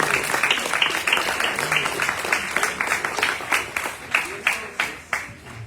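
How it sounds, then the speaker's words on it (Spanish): A small audience at a Spanish-language poetry talk claps for the author, dense at first, then thinning into fewer, distinct individual claps toward the end. "Un aplauso."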